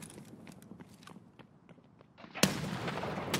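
Grenade blast in the shooter Escape from Tarkov: faint clicks and footsteps, then a single sharp loud explosion followed by a sustained rumbling roar.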